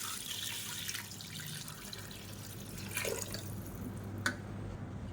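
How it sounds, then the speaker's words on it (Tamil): Water is poured into a pot of chicken curry, giving a faint, thin trickle with a few small drips and splashes. The pouring is quiet and close, with a low hum underneath. "இப்போ இந்த சிக்கனுக்கு தண்ணி ஊற்றிக்கலாம்."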